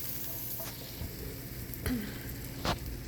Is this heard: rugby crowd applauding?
no